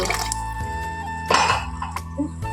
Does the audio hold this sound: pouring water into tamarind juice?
yes